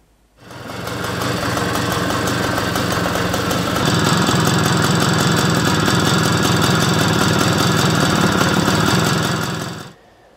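A Puch e50 moped engine runs steadily, a loud buzzing two-stroke idle that starts abruptly, rises slightly after a few seconds, and holds evenly until cut off near the end.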